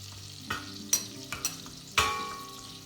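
Tomato and pepper paste frying in a pan for a mushroom tarhana soup, soft close sizzling broken by a handful of distinct spoon scrapes and taps against the pan, the loudest near the end.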